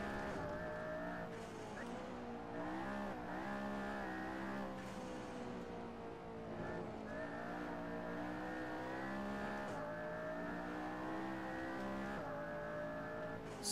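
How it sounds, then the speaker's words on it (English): McLaren P1 supercar in the racing game Assetto Corsa, its engine droning loud and steady through a full-throttle lap, pitch rising and falling with gear changes and revs, with brief tyre squeal as the car slides through corners. "in the McLaren P1."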